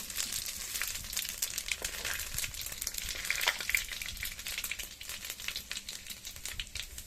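Whole dried chillies and panch phoron spices crackle and spit in hot oil, a busy, continuous popping and sizzling heard close up with no one talking.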